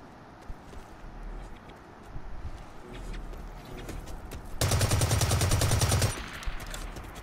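Automatic gunfire in the online shooter Blacklight Retribution, a dense loud burst of about a second and a half, preceded by scattered fainter shots and footsteps amid game noise.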